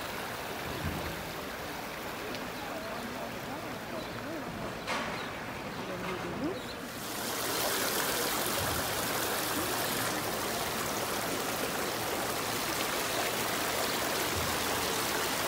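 Cold stream water flows steadily on a warm day, a continuous broadband rush that grows louder partway through as the microphone moves closer to the water, with no voices.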